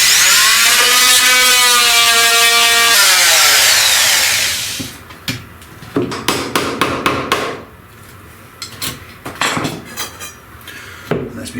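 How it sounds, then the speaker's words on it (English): An oscillating multi-tool buzzes steadily while notching a 2x4 stud during a bathroom remodel, then stops, followed by a series of sharp knocks and clatters of wood and tools nearby. "So I got the oscillating tool, and there we go. Really just need to notch it."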